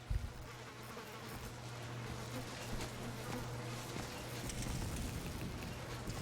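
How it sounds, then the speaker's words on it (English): A video game's Amrita insect swarm, a continuous buzzing hum with a low steady tone beneath and occasional footstep-like clops, sustained and moderately loud. "Oh, hello, Amrita swarm."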